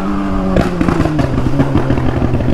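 A Honda Hornet motorcycle engine idles steadily up close, then revs hard in a series of quick, loud throttle blips with a gritty, pulsing rasp.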